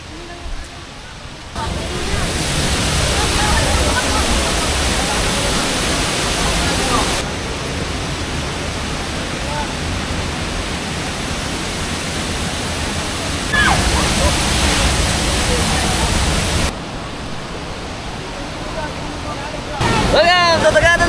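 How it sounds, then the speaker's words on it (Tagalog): Tangadan Falls in La Union, a loud, steady roar of falling water that shifts in level as the listener moves closer and farther, with people's voices occasionally heard beneath it. "Welcome to Tangadan Falls!"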